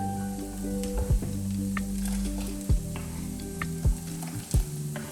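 Fish soup ingredients with potatoes sizzle steadily in a pan, with a few sharp scraping stirs of a utensil breaking through the continuous frying hiss.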